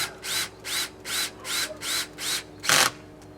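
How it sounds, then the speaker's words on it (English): An electric screwdriver drives the last screw, coated in Gorilla Glue, into a Solera slider topper, with the torque brake set low. Six even bursts of motor whine run in a steady rhythm, close up, and a loud clicking rattle of the slipping clutch comes at the end. "Here I am running the last screw in of the right side with the Gorilla Glue on it."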